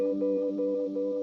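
A Strymon El Capistan tape delay repeats an ambient guitar tone, a brief, steady wash of softly pulsing sustained notes.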